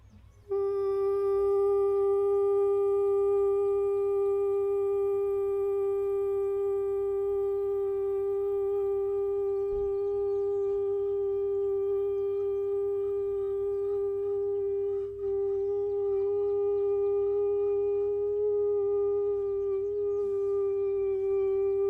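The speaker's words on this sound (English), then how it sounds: "Now we'll go up into a falsetto range, M2 vibratory mode." A single voice holds a sustained falsetto tone for morning mantras, a pure, steady pitch with strong overtones that continues almost unbroken for over twenty seconds, with a low hum beneath.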